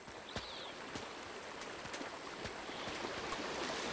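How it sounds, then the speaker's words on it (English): Steady rushing of a waterfall in the video game Uncharted 2, a constant broadband wash of falling water with faint clicks and taps over it, moderately loud and continuous with no talk. "Nothing behind the waterfall."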